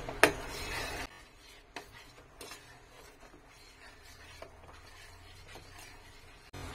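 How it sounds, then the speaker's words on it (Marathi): Mango pulp and sugar stirred together with a spoon in a bowl, soft scraping and clinking strokes repeating at a steady pace, close and fairly quiet. "आंब्याचा पल्प आणि साखर एकसारखी मिक्स झाली पाहिजे"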